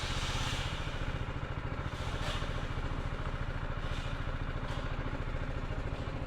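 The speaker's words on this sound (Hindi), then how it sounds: "बंद कर दें लगता है अपनी मोटरसाइकिल" A motorcycle engine idles steadily close by at a border crossing on a Sweden-to-Pakistan tour, its even low thudding pulse running continuously and loud throughout with no talk.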